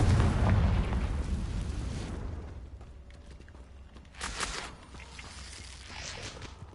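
A Confringo fire spell explodes in the game Hogwarts Legacy, opening with a loud, booming blast that rumbles and fades over a couple of seconds, followed by softer crackling bursts and debris noises.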